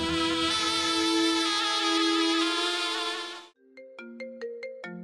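A phone ringtone plays in a drama scene, a loud, sustained melodic ring lasting about three and a half seconds, followed by a short run of bright, plucked chime notes.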